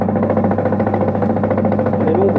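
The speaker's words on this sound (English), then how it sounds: "Now this drill is not the best of drills, it's not smooth, it's a bit whiny, you'll hear it in a minute." An old, whiny electric drill spinning fine sandpaper while cleaning a Ferguson TE20 tractor cylinder head, giving a steady, loud motor drone with a rough, uneven hum that runs continuously throughout.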